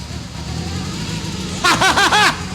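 A brand-new Nissan S14 engine catching on its first start: a steady low rumble runs throughout, then people burst into close laughter and cheering over it near the end.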